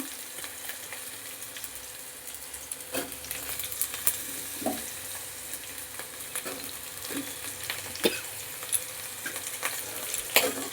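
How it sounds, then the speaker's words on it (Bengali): Sliced potatoes and onions sizzle and crackle steadily in a hot pan, with occasional sharp scrapes and taps of a spatula stirring them. "এইবার আলুর সাথে পেঁয়াজের সাথে একসঙ্গে খানিকক্ষণ ভাজা করে নেব"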